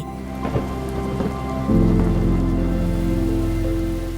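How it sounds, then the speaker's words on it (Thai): Heavy rain from tropical depression Noru sweeping across Thailand in September 2022 pours steadily, with a deep rumble of thunder rolling in midway and the downpour staying loud throughout. "พายุดิเปรสชันโนรู ได้พัดถล่มประเทศไทย"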